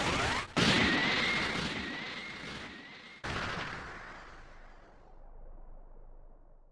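Special Beam Cannon attack from the Dragon Ball Sparking Zero video game, a loud crashing energy blast that cuts out briefly, then strikes again in a second heavy burst that rumbles and fades away.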